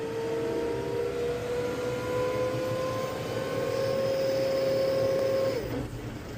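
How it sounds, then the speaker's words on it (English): A tractor engine held at high revs gives a steady droning hum that climbs slowly in pitch, then drops away abruptly near the end. "Let it rev it up."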